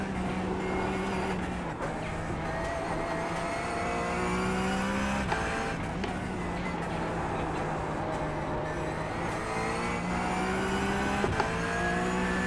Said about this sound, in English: turn the engine noises down so I can hear the tyres a bit better